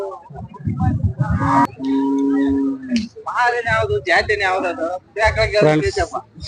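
At the Sindhanur cattle market, cows low with long drawn-out moos amid steady nearby chatter of traders, the animal calls rising loud and close between stretches of talk.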